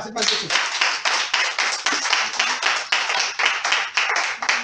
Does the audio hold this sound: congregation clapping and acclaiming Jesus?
yes